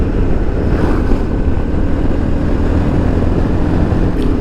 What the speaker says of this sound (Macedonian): Многу е ветровито тука и е ниско рамно, може би затоа и дува доста.